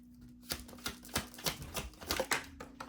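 Tarot cards are shuffled close by in a quick series of crisp riffling bursts, uneven in rhythm, fairly soft overall.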